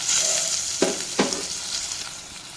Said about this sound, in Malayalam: ഇനി നമുക്ക് വഴുതനങ്ങ, മഞ്ഞൾപ്പൊടി, ഉപ്പ് ചേർത്ത് കൊടുക്കാം.